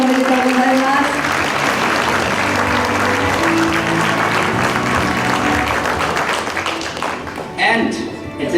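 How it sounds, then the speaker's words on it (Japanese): Award ceremony audience applauding fourth-place team Norway at the World Photographic Cup, a loud, continuous round of clapping beneath an announcer's amplified voice, with background music fading near the end. "第4位ノルウェー、大きな拍手をお願いいたします。"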